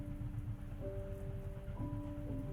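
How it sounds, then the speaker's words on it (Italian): Rain pattering on the roof of a moving train, a steady soft wash blended with low rumbling and faint sustained tonal hums from the carriage, continuous and gentle throughout with no voices. "solo piccoli suoni che si intrecciano con il battito delle rotaie e con la pioggia sul tetto"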